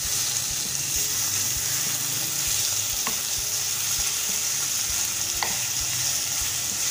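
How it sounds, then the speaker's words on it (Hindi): Minced meat (keema) with gum berries (lasoda) fries in a pan, giving a steady, dense sizzle, close and constant, with occasional faint clicks of stirring and no talk. "बड़ा ज़बरदस्त किस्म का कीमा फ्राई हो रहा है"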